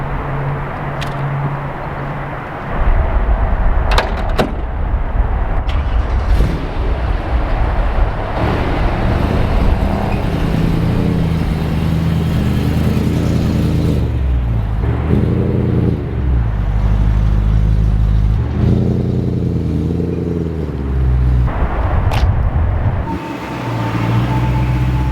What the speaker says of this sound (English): There's an E90 on a truck pulling in.